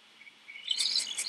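Birds in Super Mario 64 chirp in a few short, bright tweets that come in quick succession after a faint lead-in, fairly clear and light, with no talk over them.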